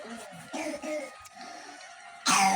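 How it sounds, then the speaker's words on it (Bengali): A young grandson coughs a few times at a home kitchen where samosas are being made, short rough bursts close by, followed by a louder, brighter burst at the end. "নাতি কেমনে কাশি দিতেছে দেখেন।"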